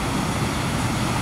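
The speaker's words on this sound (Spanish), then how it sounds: "También por ahí hay unos helicópteros" A helicopter flying over the beach at Atlantic City, a steady broad rotor and engine roar heard briefly at moderate distance.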